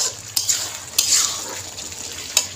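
Potatoes sizzle in a frying pan as a utensil stirs them, a steady hiss broken by three sharp scraping clinks, close and loud with no voices.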